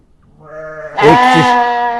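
A ram at a sheep pen in Uzbekistan lets out a single loud, close bleat that swells and wavers for about a second.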